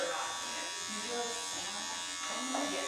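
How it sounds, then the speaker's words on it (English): Electric hair clippers buzz steadily at close range while trimming hair around the ear, a continuous even drone with someone talking over it. "I just kind of use half of the blade here to go around the ear"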